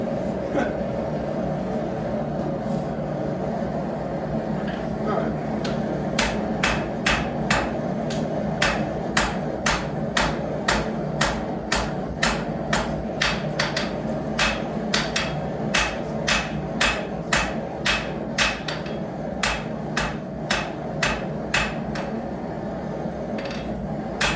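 Blacksmith hammering hot iron while forging a nail, a steady run of sharp ringing metallic strikes in even rhythm over a constant background hum, close and fairly loud.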